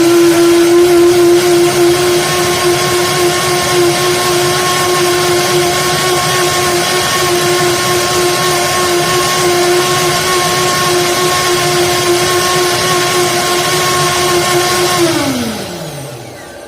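A blender whips a spinach ravioli sauce seasoned with salt, pepper and herbs, its motor whining loudly at a steady pitch for about fifteen seconds before spinning down to a stop at the end.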